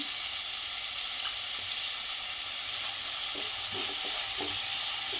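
Cut green chillies fry in hot oil for a kaju paneer masala curry, a constant bright sizzle with occasional soft stirring taps, close and steady, with no voices.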